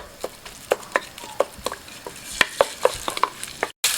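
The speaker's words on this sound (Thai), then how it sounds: "ตั้งกระทะใส่น้ำมัน ไม่ต้องรอน้ำมันร้อน ใส่เลย ใส่พริกแกงเลย ใส่แล้วก็ผัดเลย" Curry paste being stir-fried in oil in a pan, a spatula scraping and tapping in irregular quick strokes over a faint sizzle, close and fairly quiet.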